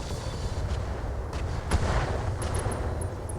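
Missile salvos firing in the Battletech video game with the Roguetech mod, a series of sharp launches and booming impacts over a continuous low rumble, with no talk.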